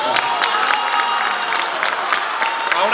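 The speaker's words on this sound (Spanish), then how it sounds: "Vamos a darle un aplauso más fuerte al maestro." Audience applause for a storyteller at a live legends-and-tales event, a brisk, fairly loud patter of clapping with a little cheering mixed in, continuous from start to finish.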